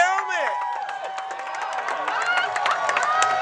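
Crowd at a fairground Tuff Truck stock-class run cheering and shouting in sustained noisy waves, with an announcer's voice carrying over the din.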